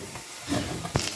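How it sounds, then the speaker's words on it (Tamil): Ginger, garlic and onion sautéing in a pan for beetroot cutlets give off a steady close sizzle and hiss, with a brief sharper crackle near the end. "இஞ்சி பூண்டு அடுத்தது போட்டு வெங்காயத்தோடு போட்டு வதக்கிட்டு இருக்கோம்"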